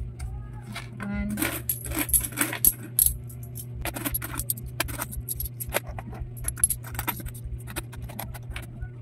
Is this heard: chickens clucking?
no